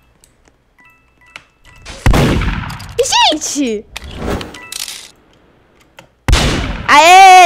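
Gunfire in the Roblox game Murder Mystery 2 comes in a few sharp bursts between stretches of excited talk, with a player's voice rising over the shots.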